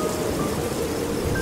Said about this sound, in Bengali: এখন ঝিরঝির করে এক নাগাড়ে বৃষ্টি হয়ে চলেছে।